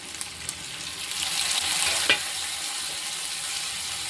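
Tomatoes are added to frying onions in a pan while cooking a Tamil mochai payir koottu, a soft steady sizzle with a brief scrape and a sharper clink of stirring, no speech.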